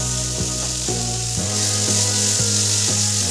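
Chopped tomato tipped onto onions frying in a pan for a chapati egg roll, a steady close sizzle broken by a few soft knocks and stirring scrapes.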